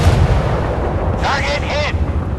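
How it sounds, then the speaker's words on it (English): Naval guns aboard warships firing on an enemy in the game Force of Warships, heavy rumbling bursts over continuous low battle noise, with a brief synthetic radio-like voice sweep in the middle. "Ready to open fire on the enemy."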